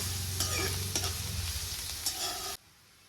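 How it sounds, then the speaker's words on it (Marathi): Onion frying in oil with ginger and garlic makes a steady close sizzle with a few stirring scrapes, stopping abruptly near the end. "कांदा आपल्याला छान असं तेलामध्ये तळून घ्यायचा त्यातच मी अद्रक लसूण टाकून घेतलेलं"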